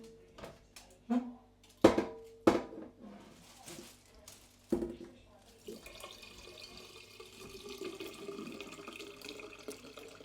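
Tap water running steadily into a sink to soak something, starting after several knocks and clunks of handling and continuing as a soft, even splashing hiss.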